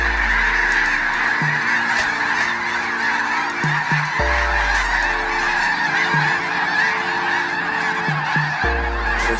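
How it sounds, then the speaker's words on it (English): A huge flock of snow geese at a wildlife spectacle in Delta, Utah, numbering in the tens of thousands, honks in a loud, dense, continuous clamour of overlapping calls, with a steady low tone running underneath. "the sight and sound of a blizzard of snow geese"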